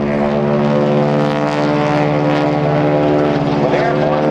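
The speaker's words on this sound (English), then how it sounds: "Watch for the nose to come up as Bill Leff gets his flying speed up, brings it out at ground effect, and holds it right over on takeoff" A propeller airplane flown by Bill Leff takes off at the 2010 NAS Oceana airshow, a loud steady droning engine roar with strong humming tones, close and continuous, under a commentator's voice.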